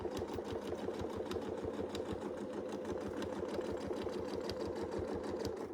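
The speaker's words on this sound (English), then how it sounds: "we should be able to sew right back into that spot" A sewing machine stitching fabric runs at a fast, even rhythm of mechanical clatter, steady and close throughout with no talk.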